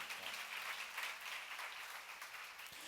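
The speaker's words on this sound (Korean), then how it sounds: "박수로 하세요." A church congregation claps through a sermon in a steady, fairly soft wash of applause heard from across the hall.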